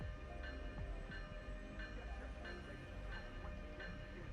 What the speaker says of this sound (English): I've taken this train many times, and I know what this train sounds like. It sounds exactly like this.